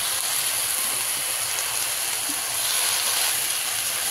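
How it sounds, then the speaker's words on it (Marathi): Fenugreek greens being stirred in a pan give off a steady, even sizzle that holds for the whole stretch, with no talking over it. "आता ह्याला हलवून घेऊया"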